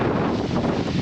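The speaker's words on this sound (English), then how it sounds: "Even now, still quite a bit of wind." Strong wind buffets an RV parked at an overnight camping spot, a loud, steady roaring rush with microphone rumble and no break, no voices heard.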